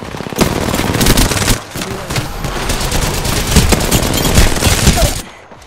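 Rapid automatic gunfire from a shooter video game crackles loud and close in sustained bursts, with a short lull midway before cutting off abruptly.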